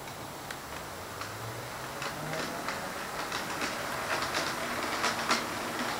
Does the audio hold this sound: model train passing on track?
yes